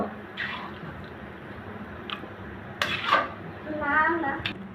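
Taro stalks go into a frying pan, bringing a few clinks and scrapes of metal and utensils, brief splashy bursts and a soft wet crackle, all moderately quiet over low kitchen background.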